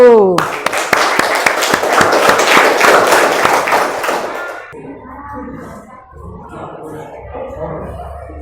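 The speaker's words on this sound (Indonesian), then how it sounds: "Oke, tepuk tangan kelompok 1" A classroom applauds group 1 with brisk, loud clapping that lasts about four seconds, then fades into quiet room noise with faint voices.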